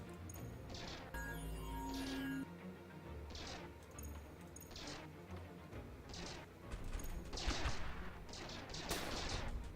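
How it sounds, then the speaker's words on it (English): Spaceship turret gunfire in the space strategy game Stardrive 2: rapid, repeated bursts of shots and crashing impacts that come in dense clusters. The fire grows heavier and louder toward the end. "So this one can shoot pretty much constantly."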